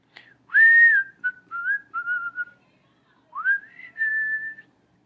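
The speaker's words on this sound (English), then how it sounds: "I'll stop whistling, fine" A person whistles a short tune alone, rising and gliding notes in a few phrases with brief pauses, close and clear.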